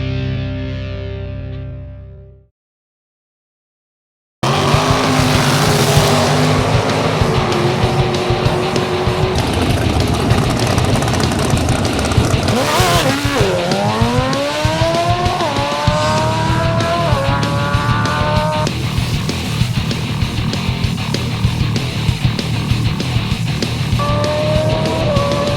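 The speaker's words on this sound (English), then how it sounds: "We got drag racing going on, grudge matches going on." Drag racing cars at Lucas Oil Raceway on a Friday night of grudge matches, loud engines roaring and revving hard with rising pitch sweeps as cars launch down the strip, following a brief silent gap.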